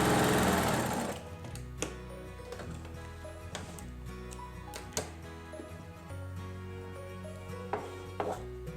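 A sewing machine stitches patchwork strips in short bursts, with quick clicking ticks and pauses between runs, close and fairly quiet after a brief loud rush at the start.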